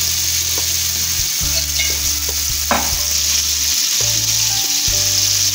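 Chicken for grilled shawarma sizzles steadily in a hot pan, a loud, dense hiss that runs without a break and has no voices over it.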